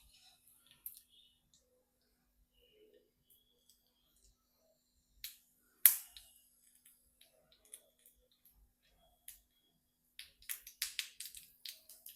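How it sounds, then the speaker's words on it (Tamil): Mustard seeds, with urad dal and cumin, pop and crackle in hot oil in a pan for murungai poo kootu, as scattered faint clicks that grow into a quick burst of close pops near the end, with no talking. "கடுகு நல்லா பொரிஞ்சதும்"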